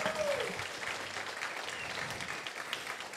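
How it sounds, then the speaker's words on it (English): Steady applause from a sizable audience at an Eagle Scout Court of Honor ceremony, clapping densely and continuously throughout at a moderate level. "Can we all give him a big round of applause?"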